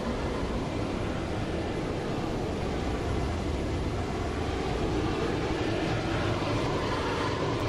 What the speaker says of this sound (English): All right, APU is running.